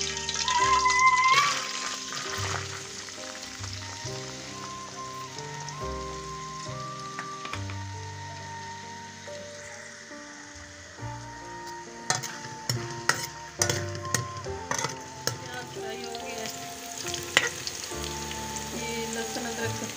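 Chopped onions hit a tablespoon of hot oil in a pot for a chana dal beef curry, giving a steady crackling sizzle with occasional stirring clinks, heard under soft background music.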